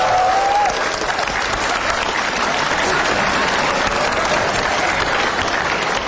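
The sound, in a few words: audience applause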